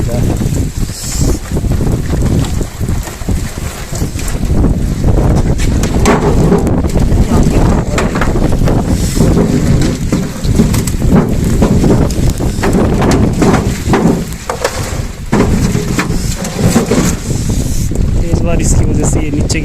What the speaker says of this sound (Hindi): काफ़ी तेज़ आंधी भी चल रही है